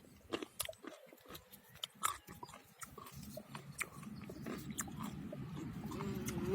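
Raw chestnut (Castanea sativa) being bitten and chewed outdoors in the Tenerife mountains: faint, close crunching bites with irregular chewing rhythm, growing denser and louder toward the end.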